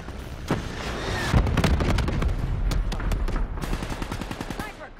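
Hellstorm missile strike in Black Ops 3 multiplayer, a dense volley of sharp blasts and rapid crackling impacts hammering in quick succession over five seconds, loud and close, with game voice callouts mixed in.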